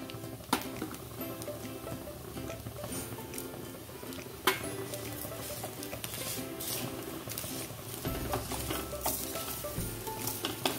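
Coconut and sugar stirred in a pan over low heat, a steady soft scraping and faint sizzle with occasional utensil knocks against the pan, continuous throughout.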